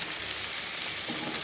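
Spices for a homemade masala fry in a pan, making a steady, even sizzle that carries on without pause and with no voices over it.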